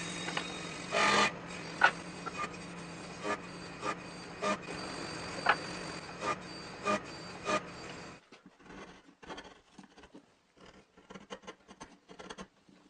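A slot is cut into a base so a protruding flywheel can clear it, giving a steady rasping saw stroke with regular sharper pulses for about eight seconds, then quieter scattered scraping and handling.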